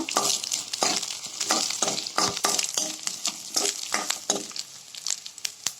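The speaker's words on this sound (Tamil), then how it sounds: "இப்போ எடுத்து வச்ச 10 பல் பூண்டை சேர்த்துக்கோங்க. இதே நல்லா வதக்கிக்கோங்க." Garlic and onion sizzle in a frying pan while a spoon stirs them, giving steady frying noise with repeated scraping and clinking strokes close by.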